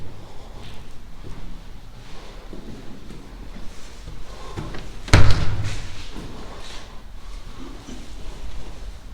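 A door thuds shut once partway through, opening onto the outdoors at the start of a countryside walk near Fritton and St Olaves, Norfolk, with steady wind rumble on the microphone throughout.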